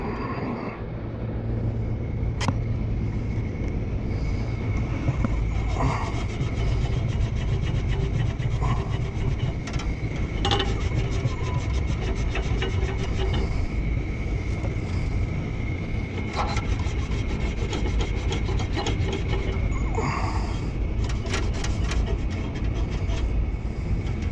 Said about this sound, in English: I'm just going to sand it up to prevent anything from getting into it.